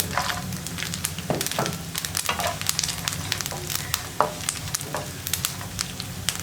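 Cashew nuts fry in a pan while parippu payasam is prepared, a constant close sizzle with crackles and scraping stirs poking through, loud and busy with no voices.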